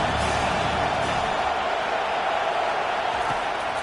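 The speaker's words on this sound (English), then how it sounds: "Listen to this crowd just shaking the girders of this place" A football stadium crowd in a game of Oklahoma at Clemson roars in a dense, continuous wash of cheering, steady and fairly distant throughout.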